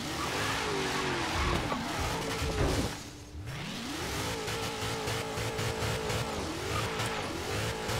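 A car engine in Forza Horizon 3 revs and strains while crawling up rocks, a loud continuous drone rising and falling in pitch with tire noise, dipping briefly before climbing again.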